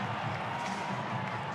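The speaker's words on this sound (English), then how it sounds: "Some applause for Josh Curran as I saw him" A large crowd roars and applauds continuously at a distance at a rugby league finals match between New Zealand Warriors and Newcastle Knights, a dense wash of cheering and clapping with no pauses.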